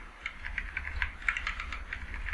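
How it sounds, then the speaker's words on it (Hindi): Computer keyboard keys tapped in a quick, steady series of light clicks, close and clear, over a low background hum with no voices. "डब्ल्यू प्रेस करके इसको रोटेशन कर लेना है कीबोर्ड की मदद से"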